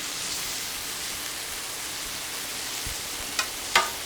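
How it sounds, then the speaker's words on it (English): Shrimp sears on a hot Solo Stove SteelFire griddle, giving a steady even hiss like light rain, with two brief sharp taps near the end. It sounds close and moderately quiet, and nobody talks. "But you see how fast that shrimp is cooking."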